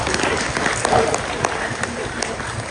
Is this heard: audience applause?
yes